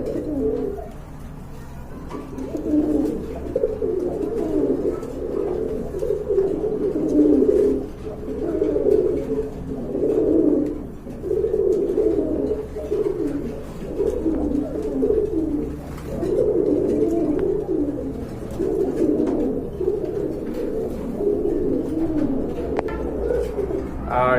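Continuous low cooing from several pigeons, overlapping rolling calls throughout, close by and steady.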